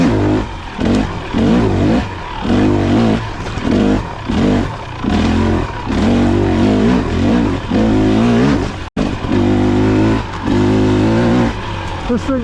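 A 2023 KTM 300 XC TBI two-stroke dirt bike engine revs hard and close, surging in repeated bursts of throttle with a harsh, buzzy roar that dips briefly between pulls.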